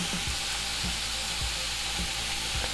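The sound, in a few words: ground beef browning in a pan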